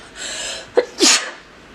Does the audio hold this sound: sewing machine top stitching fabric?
no